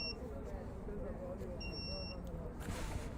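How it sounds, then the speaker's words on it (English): Electronic low-battery warning beeps from a device, high-pitched tones sounding twice over steady crowd and background noise during a cricket match between the Redmond Royals and Kirkland Knight Riders. "apologize for the beeping noise. That's the battery slowly dying."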